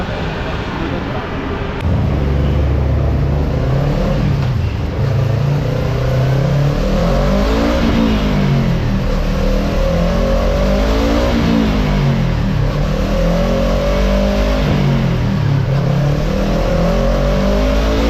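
A stock Yamaha R3 motorcycle engine idles, then revs repeatedly toward its 13,000 RPM limiter, the pitch sweeping up and bouncing off the cut in loud, close cycles.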